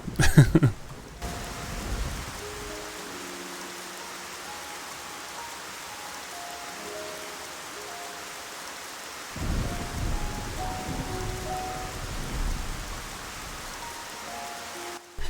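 Rain and thunder ambience from the video game Xenoblade Chronicles Future Connected: steady rainfall hisses throughout, with a loud thunder crack at the start and rolling rumbles returning later.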